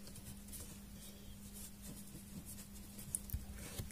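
A definition of a square being written on a board during a geometry lesson on quadrilaterals, soft continuous scratching strokes under a low steady hum, quiet and close with no speech.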